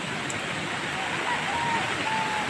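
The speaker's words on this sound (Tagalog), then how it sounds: "Galit na galit yung ilog." A river swollen by overnight typhoon rain in Montalban, Rizal, rushing in a steady, dense roar that fills the whole clip, close and loud, with faint voices barely underneath.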